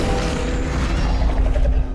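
Incendio fire spell cast in the Hogwarts Legacy video game, a dense, sustained roaring whoosh with low rumbling crackle that stays loud and steady for about two seconds, without speech.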